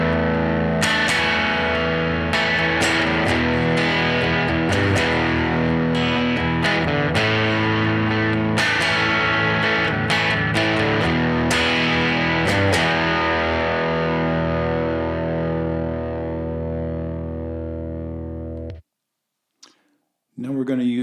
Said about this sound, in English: Now we're going to use fairly heavy distortion, and we're going to go with the neck humbucker first.